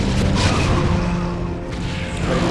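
Heavy booming cannon fire from siege tanks in a StarCraft: Brood War battle, a dense continuous barrage of loud low blasts layered with clattering impacts and battle noise throughout.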